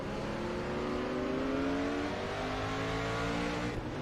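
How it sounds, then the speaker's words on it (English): An Audi race car in the Raceroom DTM 92 racing game at Zandvoort, its engine roaring loud and close as it climbs through the revs, with rising harmonic tones and a sustained accelerating snarl. "Listen to this thing roar coming out of the Audi S here."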